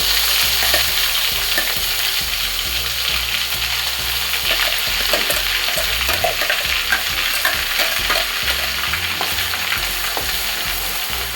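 Masala paste frying in oil in a pan while being stirred, with a steady loud sizzle and repeated scraping strokes throughout, alone without talk.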